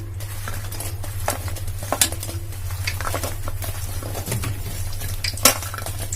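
Zalabia dough fries in hot oil, returned to the pan a second time for browning and crispness: a steady, dense hiss over a low constant hum, with scattered metal utensil clinks and scrapes near the pan.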